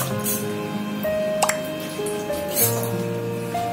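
Water poured into a wok while preparing pindang patin, heard as close dripping and splashing over a steady background hum with faint clinks.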